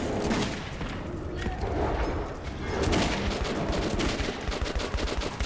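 Bursts of rapid gunfire and repeated shots from a shooting video game, steady and fairly loud across the whole stretch, with dense overlapping volleys and no voices heard.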